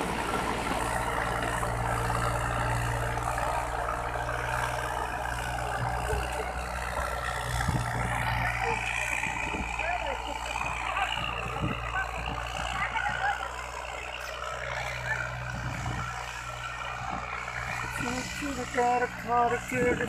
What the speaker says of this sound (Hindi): क्या शेर जैसी आवाज, ट्रैक्टर बिल्कुल दबाव नहीं,